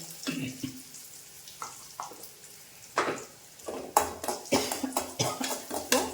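Tempering spices with fenugreek powder in a pan for a spinach dal: a soft background sizzle with sharp bursts of crackling and spattering that grow denser toward the end, fairly close and moderately loud, with no voices.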